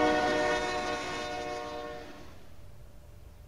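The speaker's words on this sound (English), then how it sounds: "try not to get hit by the train." A train in the video game Mind: Path to Thalamus sounds a loud, sustained horn chord as it rushes past, then fades away over a few seconds. No speech.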